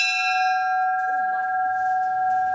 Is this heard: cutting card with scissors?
no